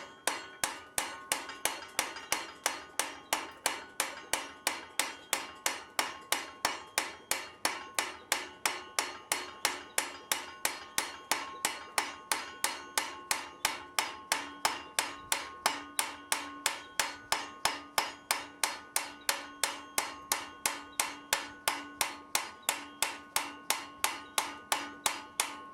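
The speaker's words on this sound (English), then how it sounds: "This is me utilising the last of the heat from dressing the corner at the anvil." Hot iron is struck at the anvil while a blacksmith upsets corners, producing a steady, fast run of ringing hammer blows that continues evenly throughout, close and clear with no talking.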